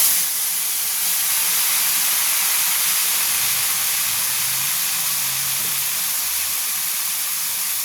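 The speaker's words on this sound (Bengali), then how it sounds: "এরপর আমি পোস্ত আর সর্ষে বাটাটা দিয়ে দেবো।" Poppy seed and mustard paste hits hot oil for a pabda fish curry, giving a steady, loud hiss of sizzling that holds evenly throughout with no voices.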